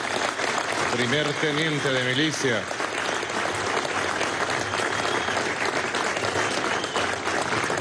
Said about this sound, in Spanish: Voy a pedir un aplauso para la fuerza de esta mujer